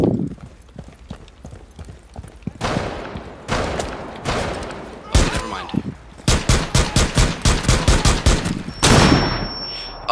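Gunfire in the video game Rainbow Six Siege, with scattered shots that build into a fast, evenly spaced volley of loud rounds near the end, close and sharp, with no talk over them.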